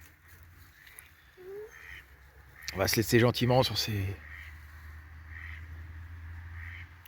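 Ducks quack faintly and intermittently in a resonant space, someone speaking French briefly over them before the quiet calls continue.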